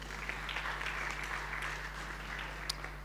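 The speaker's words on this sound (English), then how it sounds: "Let's give them another round of applause." Applause from a forum audience at a conference on displacement, steady and moderately distant, with a constant low electrical hum beneath and a brief louder spike near the end.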